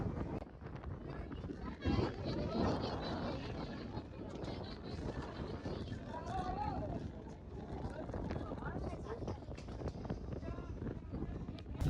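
Strong gusting wind buffeting the microphone on the Girnar mountain trek in Gujarat, loud rumbling rushes that rise and fall throughout, with voices talking underneath.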